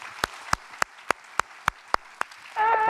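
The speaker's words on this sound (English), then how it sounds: "first a round of applause for our panel" Eight sharp, evenly spaced claps ring out alone at a data festival opening ceremony, then a burst of tonal sound cuts in at the end.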